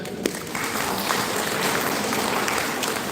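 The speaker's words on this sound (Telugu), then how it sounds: "లక్ష్మీరెడ్డి గారికి ఒకసారి క్లాప్ చేద్దాం" An audience at a pyramid meditation centre gathering claps steadily, a dense, even patter of many hands sustained throughout without anyone talking.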